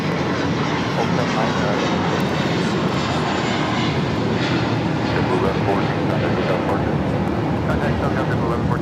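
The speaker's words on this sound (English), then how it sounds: "These takeoffs are so cool tonight." Jet airliner taking off at night at LAX, a loud sustained engine roar that holds strong throughout, heard from nearby at the airport with voices talking over it.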